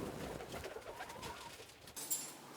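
A pigeon coos softly while laying an egg, giving low, faint, murmuring calls over quiet background noise. A brief brighter rustle comes near the end.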